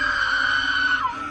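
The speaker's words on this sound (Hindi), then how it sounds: "जोया उसे देखकर चीखने लगी।" A woman screams in terror in a horror story scene, a sustained high, steady shriek that holds loud for over a second before trailing into a falling tone.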